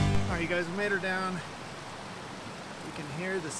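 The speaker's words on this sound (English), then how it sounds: "you can hear the sounds of flowing water" A tiny brown-trout creek flows in a soft, steady wash behind a voice, heard briefly on its own between his words.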